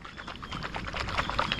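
Liquid sloshing inside a coconut found lying on the ground on a desert island, a soft continuous watery rumble with faint irregular splashy pulses, heard close with no talking.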